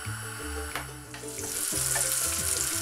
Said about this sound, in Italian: In questa padella a freddo ho messo una noce di burro e un filo d'olio per non far bruciare il burro.